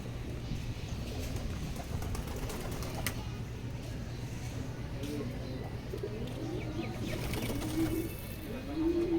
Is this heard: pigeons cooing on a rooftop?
yes